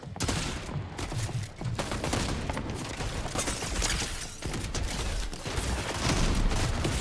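Dense, loud bursts of automatic gunfire and rapid shots rattle almost nonstop in a Fortnite ranked match, with mechanical clicks mixed in.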